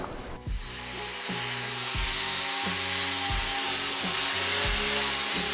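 A go-kart frame rail for a kiddie-pool go-kart is cut with a saw. Steady, rhythmic strokes repeat about every two-thirds of a second, close and fairly loud, over a constant background hiss.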